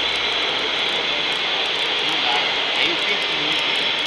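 An electric motor on an electromagnetic braking setup runs after being switched on, giving a steady, loud broadband whirring hiss that holds evenly for the whole stretch.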